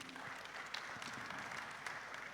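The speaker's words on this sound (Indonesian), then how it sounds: "tepuk tangan nih Sri Kandi." An audience at an Indonesian culture ministry event claps briefly, a faint, dense patter of many hands with a few sharper claps, heard from a distance.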